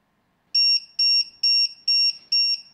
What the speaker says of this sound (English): we will get a tone on this alarm